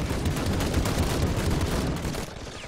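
Dense, continuous gunfire from a Call to Arms war video game battle: rapid overlapping shots and bursts that stay loud and close for nearly three seconds, easing slightly near the end.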